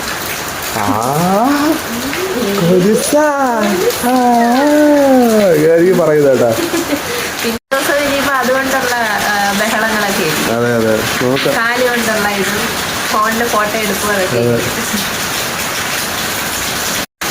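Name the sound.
rain falling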